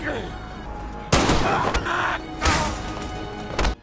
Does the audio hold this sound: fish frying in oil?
no